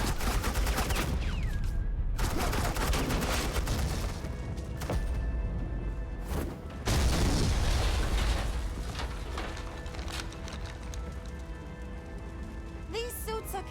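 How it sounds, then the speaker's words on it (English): Suppressing gunfire in the video game Batman: The Enemy Within, a loud, dense fusillade of rapid shots rattling almost without pause, with brief lulls and a few sharper cracks. "Suppressing fire."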